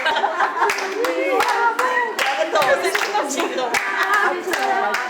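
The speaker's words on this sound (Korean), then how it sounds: "너네 그러면 박수 쳐" Children at a Christmas-season gathering clap in rhythm along to a sung Korean children's song, sharp regular claps under lively singing voices, close and bright.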